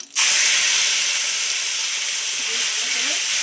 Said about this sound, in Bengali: একদম সামান্য দুটো সাদা জিরে দিয়ে দিলাম। ফোড়নটা আমার ভাজা ভাজা করা গেছে, এবার আমি মশলাটা দিয়ে দিলাম।